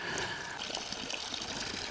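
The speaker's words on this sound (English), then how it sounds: "You got fresh spring water straight from the Kurdish mountains." Fresh spring water flowing steadily in the Kurdish mountains, a continuous close, bright trickling and gushing wash with no break and no voices.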